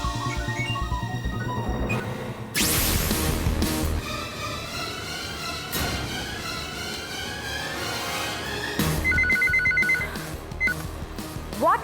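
A telephone rings repeatedly and goes unanswered, its trilling bursts returning in a steady pattern with dramatic background music swelling underneath, no voices present.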